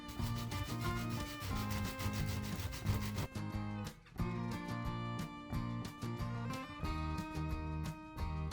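Sandpaper in 220 and 150 grit rubs back and forth across the body of a 1953 Fender Stringmaster, giving steady, close, rhythmic scraping strokes with short pauses between passes.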